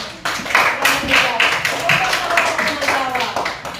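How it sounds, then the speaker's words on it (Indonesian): Students in a classroom clap for a classmate during a coding and AI lesson, a modest burst of separate claps with a loose, uneven rhythm, close by, with talk running under it. "beri tepuk tangan untuk Karen"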